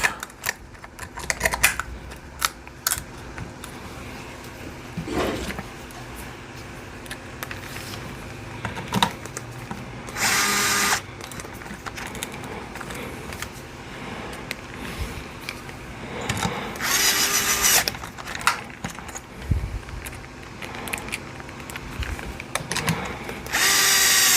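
A power drill driving screws into a Losi ProMoto RC motorcycle part, short bursts of whirring spaced among clicks and handling noises, close and fairly loud with no talk.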